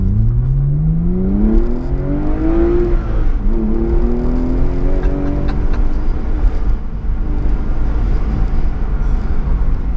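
A modified Porsche 996 Carrera 4S accelerates on the road, its engine note rising in pitch through the revs, dropping briefly at a gear change, then climbing again before settling into a steady drone under road and wind noise.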